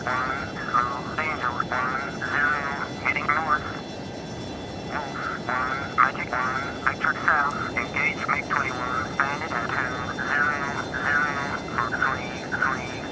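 F-22 fighter jet in a video game, a steady low engine rumble running underneath continuous radio-style voice chatter for the whole stretch.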